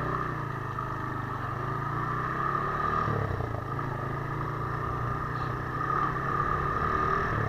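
Suzuki Thunder 125 motorcycle engine tested for drag racing, a steady buzzing drone with a brief rise in revs midway, close and continuous with no talk.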